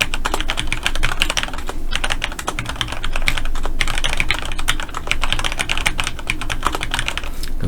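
Rapid, continuous clatter of a computer keyboard during Excel spreadsheet data entry for an ITQ exam practice, with keys tapped steadily and the Enter key struck repeatedly, close and fairly loud with no voices.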